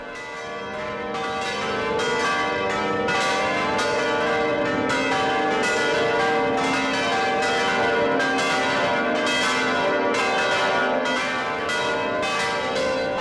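Church bells driven by an electromagnetic Belltron ringing system peal continuously and loudly for over ten seconds, with overlapping strikes and a dense, rich ringing tone.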